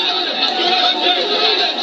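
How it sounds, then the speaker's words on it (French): An increasingly excited crowd of protesters, a constant wash of overlapping voices and chatter, loud and close, with a few voices rising briefly above the mass. "mais la foule est de plus en plus excitée."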